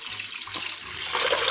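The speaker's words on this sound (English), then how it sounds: "Now we're going to add the beans." Water splashes steadily into a cooking pot as soaked beans go in for Puerto Rican beans with brown rice, a continuous pouring rush that swells louder toward the end.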